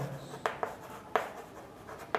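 Numbers are written on a board in a math class, giving a few distinct taps and scratches: sharp strokes at irregular intervals, close and moderately loud, with no talking.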